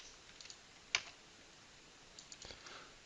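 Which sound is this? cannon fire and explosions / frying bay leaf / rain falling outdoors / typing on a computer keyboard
typing on a computer keyboard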